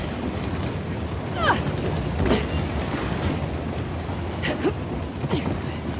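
A train rumbles along steadily with a constant mechanical roar, and a few brief squeaks rise above the noise, in the video game Uncharted: The Lost Legacy.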